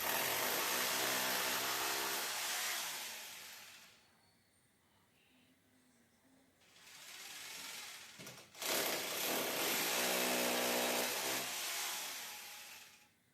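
Power screwdriver driving screws into the pre-filter housing of an RO water purifier during a kitchen installation, buzzing in two long loud bursts with a quieter gap between them.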